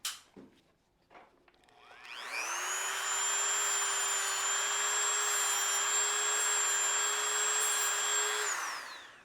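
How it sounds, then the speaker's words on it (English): A power sander grinds away excess titanium held in a vise. After a few clatters it spins up into a loud, steady high-pitched whine that holds for about six seconds and then winds down. "we're going to sand away all that excess"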